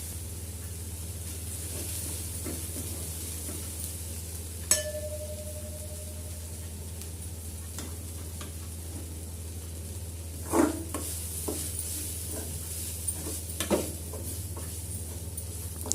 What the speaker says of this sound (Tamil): அரைச்சி வச்ச மசாலாவை அதில் சேர்த்து நல்லா வதக்கிக்கலாம்.